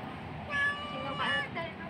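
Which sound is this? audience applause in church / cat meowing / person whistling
cat meowing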